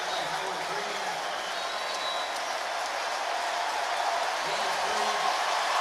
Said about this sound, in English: It's the loudest cheer we've heard all day.